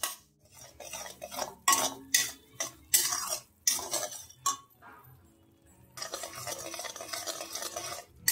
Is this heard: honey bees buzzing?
no